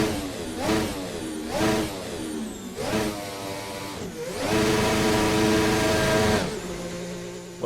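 Racing video game mod of an F1 car sitting in the pits, its engine blipped in short revving bursts, then held at a higher, raspy rev for a couple of seconds before dropping back, loud and close.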